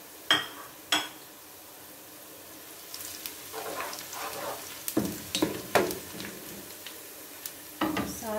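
Whole spices such as black cardamom, cloves and cumin sizzling in hot oil in a pan for spicy matar pulao, a soft sizzle broken by repeated clinks and scrapes of a spoon stirring against the metal.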